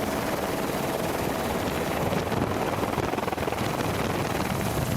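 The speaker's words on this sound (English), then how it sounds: "we took the helicopter out" Helicopter flying out from the Manaslu region of Nepal, heard from inside or close by as a loud, constant rotor and engine roar with wind buffeting, steady throughout and without talk.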